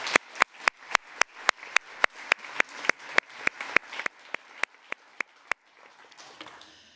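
Audience applause at a book and film launch party, heard as steady, evenly spaced sharp claps, about eighteen in a row, that stop abruptly, leaving faint room noise.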